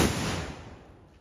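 A firecracker goes off at a club inauguration, a single loud outdoor bang whose rumbling tail fades away over about a second.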